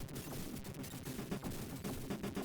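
Explosions from a Commodore 64 arcade-port video game burst in rapid, crackling succession, a dense chiptune-style barrage of noisy blasts with gunfire-like rhythm filling the short stretch.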